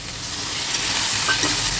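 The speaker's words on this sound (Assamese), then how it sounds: "পানী দি পেলাই ভাজিছোঁ।" Spices and tomatoes fry in a pan after a little water is added, producing a close, steady hiss and sizzle that swells slightly toward the end, with no voices.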